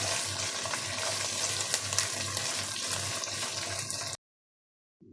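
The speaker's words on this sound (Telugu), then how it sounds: "వేసి బాగా ఫ్రై చేసుకోవాలి." Green chillies and curry leaves fry in oil with ginger-garlic paste for a gongura chicken curry, giving a dense, close sizzle with stirring scrapes that cuts off abruptly near the end.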